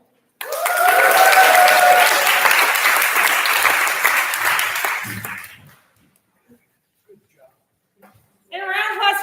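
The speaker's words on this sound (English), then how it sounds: "Let's have another big round of applause for the work we can make this happen tonight" An audience at an annual benefit auction breaks into loud, dense applause that lasts several seconds and then fades out, followed by a few scattered claps and then a voice speaking.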